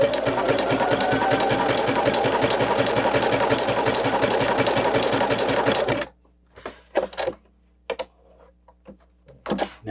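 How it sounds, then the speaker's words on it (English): Household sewing machine stitching a zigzag runs fast and steady for about six seconds in a dense rhythmic whir, then stops, followed by a few quiet clicks and handling noises. "So I'm going to put it on a zigzag and I'm just going to do a few stitches."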